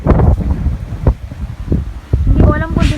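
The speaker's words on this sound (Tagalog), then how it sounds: "Hindi ko alam kung dinig niyo yung hangin, pero ang lakas po ng hangin." Strong typhoon winds buffet a rooftop in Cavite, with loud gusting wind noise battering the microphone in surges that drop briefly and then rise again.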